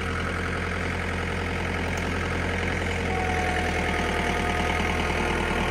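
A 2006 John Deere 4720 compact tractor engine idles with a steady, throbbing diesel rumble, close and continuous, rising slightly in pitch partway through, with no talk.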